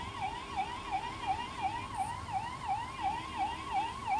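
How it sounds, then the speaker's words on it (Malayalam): An ambulance stuck in a highway traffic jam sounds its siren in a steady, repeating wail, heard at moderate distance over a low traffic rumble with no talking. "ആംബുലൻസ് ബ്ലോക്കായി നിൽക്കുന്നത്."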